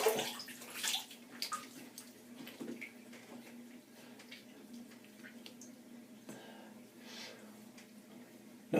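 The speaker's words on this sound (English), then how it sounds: "Let me drain some water, hang on." Water draining from a bathroom sink after a shave with a straight razor, a steady gurgling trickle with a few louder splashy bursts, close by and uninterrupted by talk.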